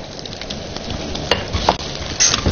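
Ginger and garlic slices stir-frying in a wok, a loud close sizzle with scraping spatula strokes and a few sharp clinks against the metal, no voices.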